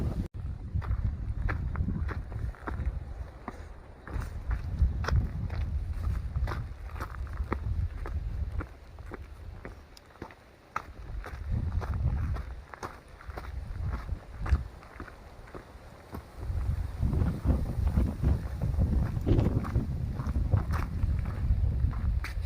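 Strong wind buffets the microphone on an Appalachian Trail mountain section near Tinker Cliffs, roaring in low gusts that rise and fall, with occasional footsteps or crunches mixed in.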